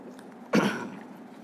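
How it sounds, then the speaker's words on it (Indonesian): A single short cough bursts out from a man giving a religious talk, close and fairly loud, with a brief rough tail before quiet room tone returns. "Memang lagi batuk-batuk"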